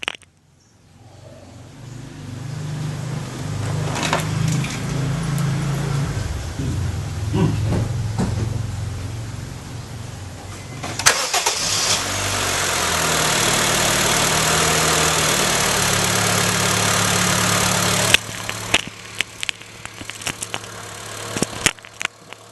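A car engine cranks and catches, then idles with a steady mid-range rumble that grows a little louder before settling, with a few clicks and knocks near the end.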